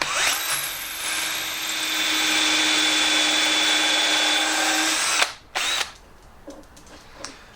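A hand drill bores holes for a castor wheel on a folding work bench, a steady high whine running for about five seconds before stopping, followed by a few brief clunks and handling knocks.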